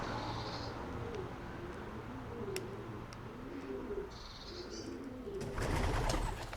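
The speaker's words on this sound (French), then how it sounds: "Là-haut, il y a un paquet de pigeons." Pigeons coo in low, soft repeated phrases against faint outdoor noise, with a few high chirps and a burst of rustling near the end.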